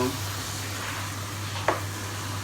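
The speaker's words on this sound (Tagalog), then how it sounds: "naggisa na rin ako ng sibuyas, kamatis, bawang at saka nilagay ko na rin ng sili" Onion, tomato, garlic and chili sauté in a pan with a soft, steady sizzle close by, and a single brief scrape of stirring partway through.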